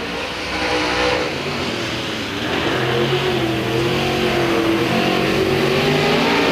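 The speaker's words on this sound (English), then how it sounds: "And Perry sure cooking and booking down there" A late model race car accelerates around the Crossville Raceway track, its engine roaring loud and rising in pitch as it climbs through the revs, sustained and steady without talk.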